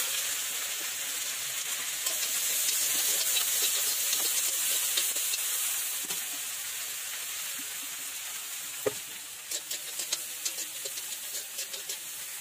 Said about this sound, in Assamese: এইখন কেৰাহীত মই পিঁয়াজখিনি ভাজি ল'ম